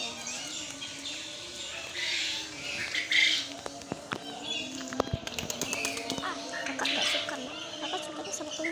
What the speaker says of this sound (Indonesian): Hati-hati banyak burung ya.